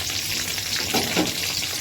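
Bay leaf, dried red chilli and whole spices sizzle in hot frying oil left from frying cauliflower and potatoes, a constant crackling hiss close up with a brief stir partway through.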